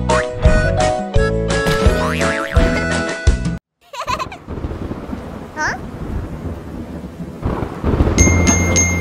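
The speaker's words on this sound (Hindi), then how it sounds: "बारिश आई छम छम छम" Rain and thunder effects in a children's song mix with musical tones and boing-like cartoon sounds, with a brief silent gap before a rumbling, hissing stretch and a return of bright melody.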